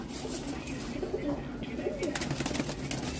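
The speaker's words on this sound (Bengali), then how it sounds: "তো কবুতরগুলো দেখাই কথা না বলে" Paired pigeons kept for sale, among them a hen, coo in low rolling calls at moderate loudness, with light rustling and clattering in the loft behind them.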